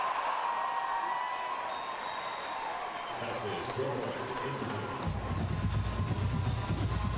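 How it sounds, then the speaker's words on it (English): Football stadium crowd at Oklahoma State against Arkansas Pine Bluff swells steadily louder, a broad roar building in stages under a commentator's voice. "as the crowd gets louder"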